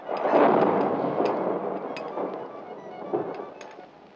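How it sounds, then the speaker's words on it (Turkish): Thunder rolls through a broad, rumbling wash of noise that swells early and then stays as a sustained low grumble, with a few sharper crackling accents over about four seconds as the weather turns stormy. "Şimşek çakıyor, hava fena bozacak galiba."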